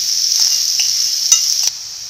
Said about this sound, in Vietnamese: Sau khi cá mặn và thịt bằm tất cả mình cho hỗn hợp mình vô mình xào cho nó săn lên.